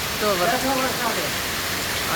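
Heavy rain pouring down in Palanpur. A dense, steady wash of falling water, with voices talking nearby over it.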